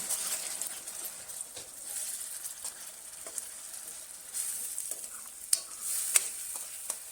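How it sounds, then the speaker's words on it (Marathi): Masala paste fries with golden-browned onions for an egg curry gravy, producing a soft hissing sizzle with sporadic clicks and stirring scrapes, quiet and close, with no voices. "आता यात आपण पेस्ट टाकून घेऊ ही आणि चांगली परतवून घेऊ."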